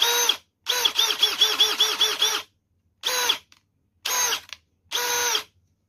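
A Milwaukee M12 Fuel Gen 3 brushless 12-volt hammer drill, model 3404-20, runs in loud, close bursts. A long first run has a pulsing hammering rattle, followed by three shorter whirring spins with silent gaps between them.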